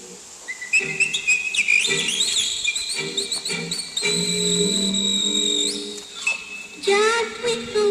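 Cheerful melodic whistling from a Snow White read-along record plays a bright, bouncy tune, with sliding notes over a light orchestral accompaniment, clear and prominent throughout.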